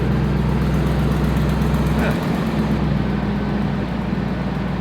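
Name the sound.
1998 Ford F150 engine running with broken exhaust manifold bolts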